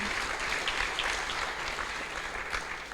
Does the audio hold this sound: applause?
yes